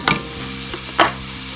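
Garlic being stir-fried in a pan for a shrimp and glass noodle dish: two sharp scraping strokes of a utensil against the pan over a soft, steady sizzle and background hum.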